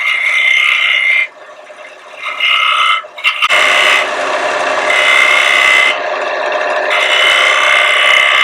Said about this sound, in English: I'm using the side of the diamond point tool as a scraper